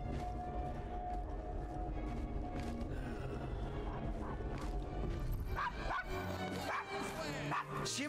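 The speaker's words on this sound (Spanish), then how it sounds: "¿Siempre está ladrando tanto?" A dog in the video game Assassin's Creed Syndicate barks and yips repeatedly, close and fairly loud, over a steady background with quieter talk.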